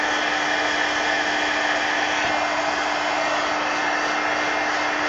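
A hair dryer blows steadily and loudly for the whole stretch, drying a damp sheet of coloring work, with a constant motor whine and rushing airflow and no talk.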